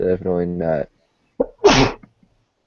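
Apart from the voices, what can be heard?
sneeze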